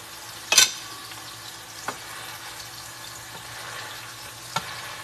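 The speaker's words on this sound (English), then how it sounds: "we're going to caramelize those onions." Onions caramelizing in a pan for patty melts, a soft steady sizzle with a few sharp stirring scrapes and clinks, moderately close, no talking.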